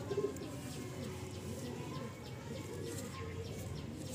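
Pet pigeons from a newly bought set cooing close by in a low, continuous murmur, with faint chirps and a brief flutter of wings at the start.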